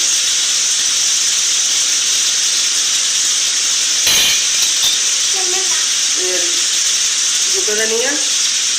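Tomatoes and spices frying lightly in a pan give a loud, steady hissing sizzle throughout, with a brief clatter midway and a few short voice fragments near the end.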